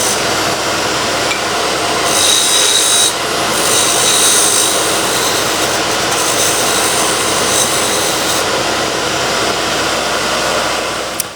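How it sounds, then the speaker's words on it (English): Hope CRYO woodturning tool side scraping wood on a spinning lathe, a loud continuous hissing, rasping scrape over the steady hum of the machine, close up and without talk. "This just shows the side scraping"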